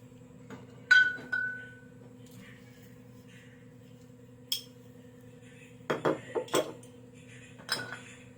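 Dishes, pots and pans are being washed at home, with scattered clinks and clatters of metal and glass, a sharp knock near the start and a quick cluster of clanks later, all over a faint steady hum.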